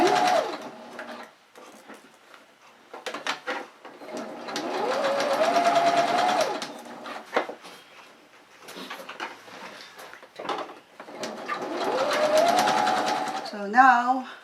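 A sewing machine stitches fabric and garter elastic for a medium-sized rice cooker pot bonnet, whirring close and loud in several sustained bursts separated by short pauses, with a brief voice near the end.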